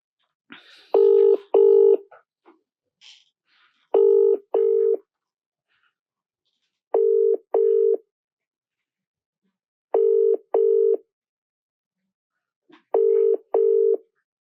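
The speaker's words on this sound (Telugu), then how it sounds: "సో మనకి ఫోన్ రింగ్ అవుతుంది కానీ అన్వేష్ ఒకసారి బిజీగా ఉన్నారనుకుంటా" An outgoing phone call on a live call rings out unanswered: five clear double-pulse ringback tones repeat about every three seconds, steady and moderately loud, with silence between them and no voices.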